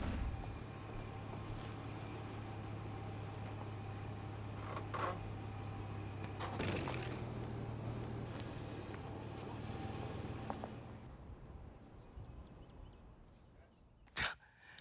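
A 3,000-pound vehicle rolls over a Stahl explosion-protected control box: a steady low engine rumble, a dull thump midway, then the drone fades and ends with a sharp knock.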